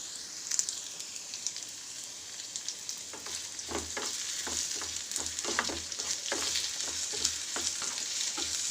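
Potato pieces fry in hot oil for a crispy Tamil-style potato fry, giving a steady close sizzle; from about three seconds in, a series of scraping stir strokes cuts through the hiss.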